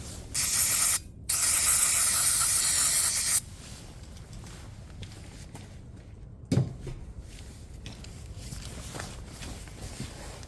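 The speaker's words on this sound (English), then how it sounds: "I'm going to hit it with a bit of brake cleaner, which will act like a contact cleaner" Aerosol brake cleaner sprayed onto motorcycle ignition points, two loud close hissing bursts in the first few seconds, followed by quieter handling clicks and a knock.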